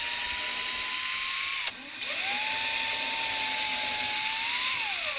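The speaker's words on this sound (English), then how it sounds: "you want to go ahead and pre-drill your holes" Power drill with a 5/64 bit pre-drilling holes in a wooden door frame, a steady close whine running in two long bursts broken by a short pause, loud and without talk.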